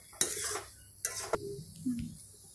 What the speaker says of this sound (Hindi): कम से कम हमें 10 से 15 मिनट तक इसको इस तरीके से इस डायरेक्शन में हिलाते रहना है